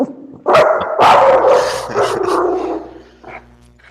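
A dog barks loudly and close in a burst of several sharp barks across a few seconds, with yips and strained whimpering tones mixed in, then trails off near the end.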